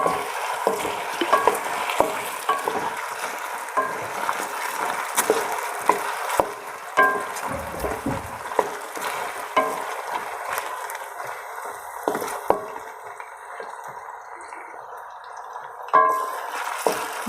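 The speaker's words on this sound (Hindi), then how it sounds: "मैं मसाला भून लूँगी।" Masala frying in ghee in a pan for an aloo arvi dish, with a steady sizzle broken by frequent scraping stirs and clicks of a spoon against the pan, close up, without speech.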